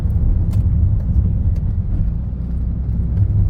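A car adapted for hand controls drives along a four-lane road, its low rumbling engine and road noise steady and close throughout.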